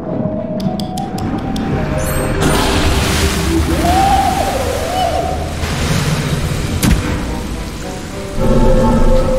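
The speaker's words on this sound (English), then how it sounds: "he noticed colossal storm clouds gathering in the skies" Steady heavy rain pours over a deep rolling rumble of thunder in a video game (Castle of Illusion HD), with a loud crack near the middle and another swell of rumbling at the end.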